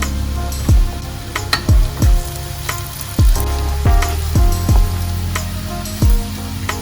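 Green chillies fry in oil with ginger and garlic for a Kerala mango pickle, a loud close sizzle broken by repeated sharp metallic knocks and scrapes at an uneven pace, no speech.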